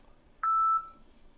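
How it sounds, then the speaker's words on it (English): A single clean electronic beep, about a third of a second long, sounds alone in near silence, marking the start of a PTE Academic read-aloud recording. "Only read the text after hearing the beep sound."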